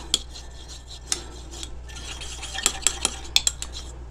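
A spoon clinks and scrapes against a container while a facial cleansing oil mixture with solubilizer and sodium lactate is stirred, giving a series of sharp metallic taps that grow busier toward the end, close and fairly quiet.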